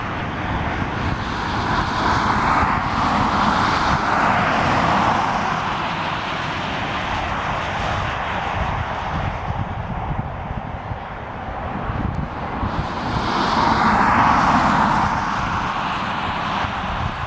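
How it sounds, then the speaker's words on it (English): A Hawaiian Airlines Airbus A321neo roars steadily and loudly for the whole stretch, its engine noise swelling near the start and again toward the end as it passes. "There's our Hawaiian A321neo."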